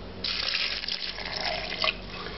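Chicken stock poured into a stick blender cup for cheddar ale soup, a short close splashing liquid stream that runs steadily for about two seconds and then stops.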